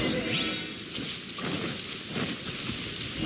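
Steady rain hisses without a break, a broad constant patter with no voices.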